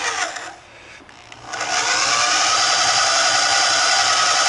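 A power drill bores through metal with a hand-sharpened bit, a brief grinding start before settling into a loud, continuous high-pitched cutting whir that holds steady to the end.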